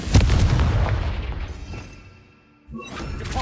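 A Confringo fire blast spell in Hogwarts Legacy, a heavy booming explosion at the start that rolls and fades over about two seconds, then a fresh loud burst of action noise near the end.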